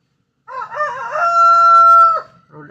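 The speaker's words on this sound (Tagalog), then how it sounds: "Rhode Island Red, crossbreed sa native chicken." A Rhode Island Red crossbreed rooster crows once, a loud, close, drawn-out cock-a-doodle-doo with a rising start and a long held note. A faint cluck follows at the end.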